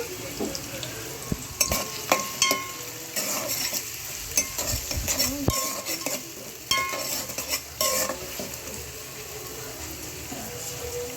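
Green chillies fry in a hot pan while a spoon stirs them, a steady sizzle running under repeated scraping and clinking strokes of the utensil against the pan, close and clear with no talking.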